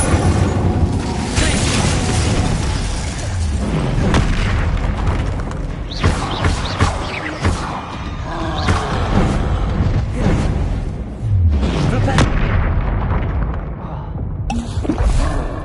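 A fire spell is cast in a wizarding action game amid a flurry of combat magic, booming bursts and crackling impacts following one another loudly, with sharp hits scattered throughout and occasional voice-like shouts in the mix.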